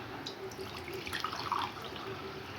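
Water runs from a kitchen tap while being measured out for kadha, a spiced herbal drink, making a steady splashing trickle close by with a few brighter drips and gurgles partway through.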